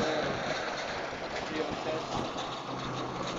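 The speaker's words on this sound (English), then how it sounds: "You can hear the traffic going by as well." Traffic passes by outdoors, picked up through the microphone of a Unifi G5 Ultra Turret security camera as a steady, moderately faint broadband rumble with no pauses.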